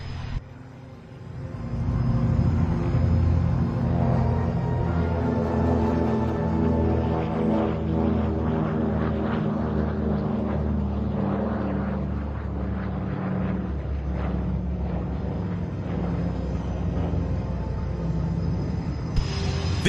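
Propeller engines of a P-40 Warhawk and a C-47 roar at a military airshow during takeoff, a loud sustained drone that swells and stays steady, heard from a distance.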